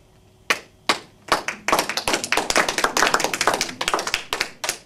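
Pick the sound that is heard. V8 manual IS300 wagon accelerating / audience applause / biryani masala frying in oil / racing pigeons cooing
audience applause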